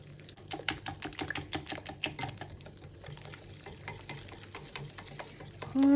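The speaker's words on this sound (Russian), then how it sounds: "Хорошо, надо перемешать." A spoon or whisk stirs chickpea flour and water batter in a bowl, making a quick run of close, crisp clicking taps against the bowl that slows and softens toward the end.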